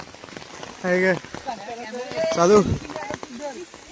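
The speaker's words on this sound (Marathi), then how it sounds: "जोरदार आलाय पाऊस" Heavy rain falls during an outdoor song shoot, a steady patter beneath people talking loudly over it.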